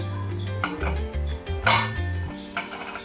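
Metal clatter as a lid is set onto a Butterfly pressure cooker in a home kitchen, several sharp clinks and scrapes in quick succession with ringing metallic tones, close and fairly loud, no talking.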